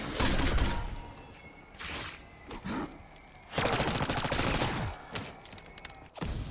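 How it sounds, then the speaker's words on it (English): Rapid machine-gun rifle fire from a video game rattles in several bursts, with sustained volleys of dense shots between quieter gaps, fairly faint in the mix. "Rifle machine prepping fire."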